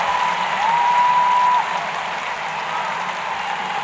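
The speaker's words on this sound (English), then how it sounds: "Crowd appreciating that last passing shot." A tennis crowd at the 2014 US Open applauds a passing shot in a match between Serena Williams and Varvara Lepchenko. The steady clapping fills the first half, then fades to a quieter murmur, with a high tone running over it.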